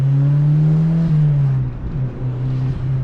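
Turbocharged Mazda MX-5 NA engine heard from inside the car, a loud, close, steady drone that dips briefly partway through, as at a gear change, then holds strong again.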